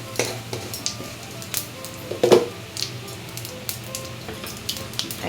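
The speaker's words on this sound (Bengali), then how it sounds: "এক মিনিট ভালো করে নেড়ে চেড়ে ভেজে নেব।" Bay leaf, a dried chilli and cumin seeds sizzle steadily in hot oil in a pan, a soft continuous frying hiss with a brief louder crackle of stirring partway through.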